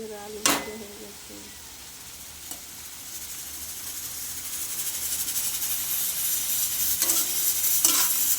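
Round potato slices fry in a pan with a quiet sizzle that gradually swells, broken by a few sharp spatula clinks and stirring scrapes.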